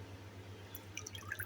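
Water drips back into a bowl from pieces of chicken lifted out after dipping for a zinger shawarma coating, a few faint, light drips over a low background hum.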